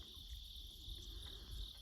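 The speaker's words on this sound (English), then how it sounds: "You hear all the crickets in the background." A steady, high-pitched chorus of crickets trills continuously at night by a foggy river, faint and unbroken, with a low rumble beneath.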